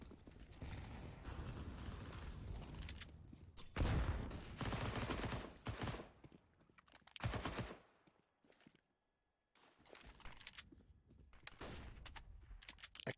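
Gunfire rings out in a competitive team shooter match: dense bursts of rapid shots and impacts come in several loud waves, separated by brief near-silent gaps.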